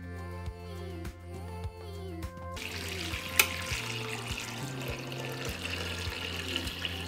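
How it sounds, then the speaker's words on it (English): Hot water streams steadily into a pot holding glass jars for pasteurizing strawberries, a continuous close splashing fill under soft background music. "Then I will pour hot water into the pot."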